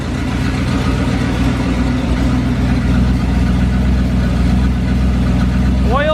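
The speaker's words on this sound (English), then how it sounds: "It fired right up. Look at that, it even idles." A 440 big block V8 idles inside a 1970 Plymouth Duster, a steady, loud, low rumble held throughout with no break, and a brief higher squeal near the end.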